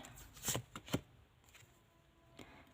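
Oracle cards are shuffled and drawn in a Lord Krishna message reading, a few soft papery riffles and snaps close by, then quiet with one faint later flick.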